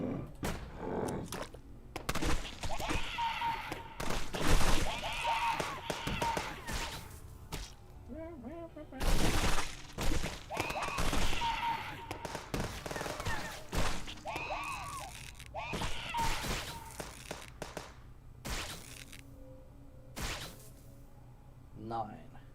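Gunfire in the zombie game OMG Zombies!, single sharp shots cracking out at irregular intervals, some with whip-like snaps, while someone talks over much of it.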